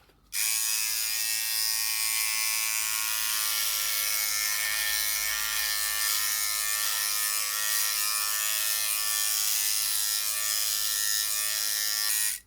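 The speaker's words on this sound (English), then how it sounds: "Let's see if doing the underarm is any better without using the comb and just the trimmer blade." A Philips Body Groomer 3000 trimmer running with its bare blade and no comb, used on underarm hair. It gives a close, loud, steady electric buzz that switches on, runs unbroken for about twelve seconds, then cuts off.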